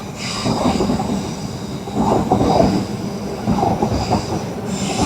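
A train rumbles past near a bottle dump, a continuous heavy rolling roar with faint metallic wheel squeal layered on top, steady and fairly close throughout.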